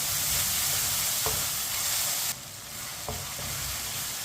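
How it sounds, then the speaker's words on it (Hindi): Tomatoes frying in a pan for a tinda chicken curry, stirred with a spoon: a steady close sizzle with two brief scraping stirs and a slight drop in level midway, no voices. "टमाटर को 2 मिनट के लिए मैंने पका लिया है चम्मच चलाते हुए।"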